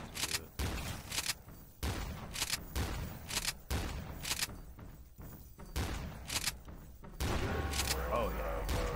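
Repeated shotgun blasts in Black Ops 3 Zombies on a custom map, loud and close, coming in a steady run of heavy booms spaced about a second apart and continuing throughout.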